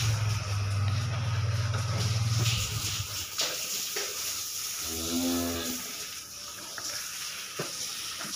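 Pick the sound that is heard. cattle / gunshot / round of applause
cattle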